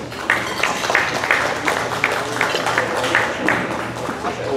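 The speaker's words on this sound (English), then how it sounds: "From Archbishop Hannan High School, a round of applause for Caroline Stanley." Applause at a luncheon for a high school award recipient. A room of people claps steadily and fairly loudly with a dense, even texture, with some chatter faintly underneath.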